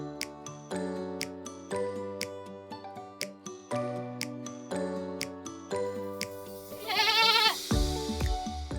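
Goats bleat on a farm, a bright wavering cry rising near the end over a bed of tonal background music with steady rhythmic notes.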